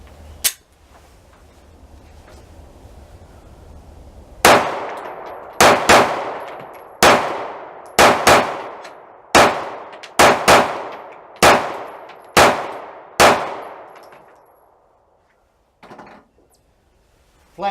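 A SIG P365 pistol fires about ten sharp shots at steel targets 7.5 yards away, each crack followed by a ringing decay, spaced roughly a second apart after a lone early shot.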